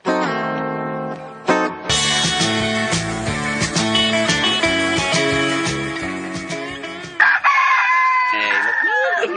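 Loud, steady music plays for several seconds, then cuts to a single rooster crow rising and falling near the end.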